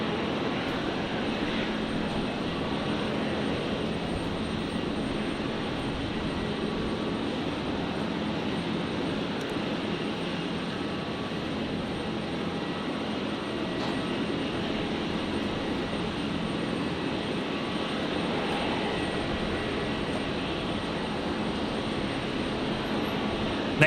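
A Qantas Boeing 737-800 arrives from Christchurch at Brisbane Airport on runway 01 right, its engine noise a steady, broad, distant roar that holds evenly throughout with no talk over it.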